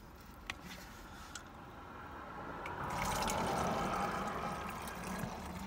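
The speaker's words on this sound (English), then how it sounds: "First thing is add hella water to it." Tap water fills a smelly protein shaker bottle, a steady close splashing stream that grows fuller and louder partway through, with a few small clicks and no talking.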